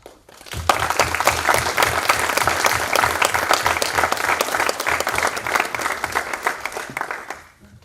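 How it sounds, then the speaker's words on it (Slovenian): Loud, dense applause from a ceremony audience honouring successful pupils from the municipality's primary and music schools, rising quickly and holding steady for about seven seconds before fading out. "v zahvalu namenimo en gromki aplavz"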